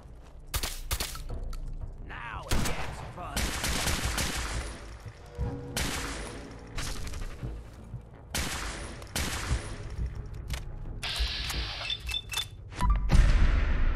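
Bursts of rapid gunfire and explosive cracks in Fallout 4: Nuka-World, volleys starting and stopping, with thuds and a mechanical clatter near the end.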